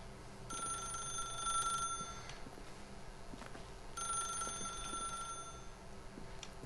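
Telephone ringing in the video game The Stanley Parable: two electronic ring bursts, each about a second and a half, separated by a gap, fairly faint over a low hum.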